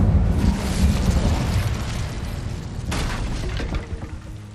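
Incendio fire spell cast in Hogwarts Legacy, a loud roaring burst of flame with a dense rumbling whoosh that fades slightly, then a second flare near the end, with no voices.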